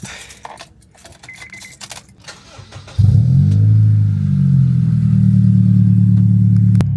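A Honda Civic FD fitted with a full exhaust fires up from warm after a few seconds of quiet clatter, then settles into a loud, deep, steady idle rumble close by.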